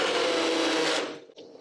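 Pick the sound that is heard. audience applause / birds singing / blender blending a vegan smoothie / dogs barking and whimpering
blender blending a vegan smoothie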